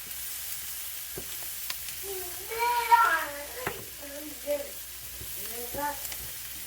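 Onions sizzle and fry in a pan for a gluten-free lasagna, a steady quiet hiss running under scattered clinks and brief stirring noises, with no talk in it.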